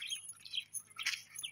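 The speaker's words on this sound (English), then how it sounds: "You can only hear the sound of the birds here." Birds chirp and tweet in a Maasai village in Kenya during an evening walk, with scattered short calls, bright and fairly close, repeating over a faint steady background.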